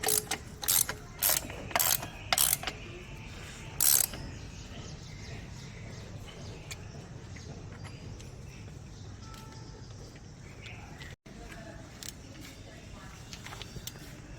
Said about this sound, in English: you can start tightening the axle nut